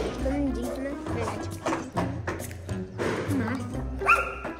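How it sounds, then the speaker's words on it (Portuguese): An aggressive dog barks in rough bursts across an outdoor scene, with thumps and movement noise, while people talk and call out nearby throughout. "cachorro brabo."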